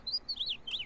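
Short, bright bird chirps from the video game Never Mind, three quick high tweets in under a second, clear and alone over a faint background.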